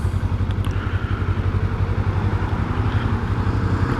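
A Suzuki GSX250R motorcycle engine idles steadily nearby, a low, even, rapid pulsing throb with a slight clatter that holds constant throughout, with no talking.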